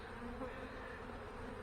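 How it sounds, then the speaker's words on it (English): Honey bees buzz inside a crowded bottom hive box, a dense, steady, fairly faint hum with no pauses and no talking. "there's a massive amount of bees in this bottom box"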